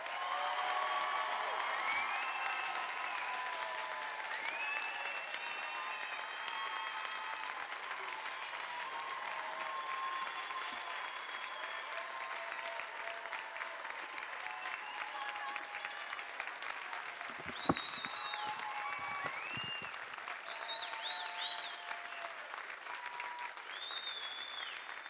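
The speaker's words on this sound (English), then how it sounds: "please applaud the class of 2021" Sustained applause from a crowd at a 2021 high school graduation ceremony for the graduating class, steady dense clapping with occasional whoops and cheers, heard from a distance across a large hall.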